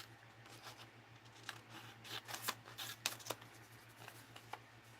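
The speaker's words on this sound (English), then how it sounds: "Let me cut these circles out real fast." Scissors snipping out paper circles from dyed paper at close range, a series of quiet crisp cuts in an irregular rhythm over a low steady background hum.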